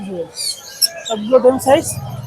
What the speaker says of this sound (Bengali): অনেক পাখি আছে এখানে টেম সাইজ বেবি দেখতে পাচ্ছি লাভবার্ডে